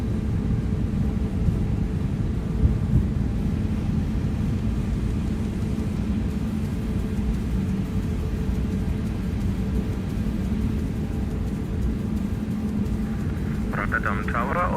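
Simulated Airbus A321neo engines spool up for a takeoff roll on Rotterdam's runway 24 in X-Plane 12, a steady low rumbling roar throughout with a brief voice near the end.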